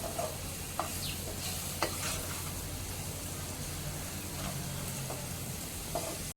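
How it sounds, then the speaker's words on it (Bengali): Chicken pieces seasoned with spices and ginger-garlic-green chilli paste sizzle steadily in a pan while being stirred, with occasional soft scraping clicks over a constant frying hiss, no voices. "চিকেনটা পরিমাণ মতো কষিয়ে নিচ্ছি। যতক্ষণ কষাবো যতক্ষণ না চিকেনের জলটা শুকিয়ে যায়।"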